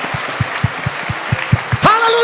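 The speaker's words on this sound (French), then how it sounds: "Give a hand clap to the Lord." A church congregation claps hands in a steady, rhythmic beat, roughly ten claps at an even pace, moderately loud, before a voice begins speaking over the end.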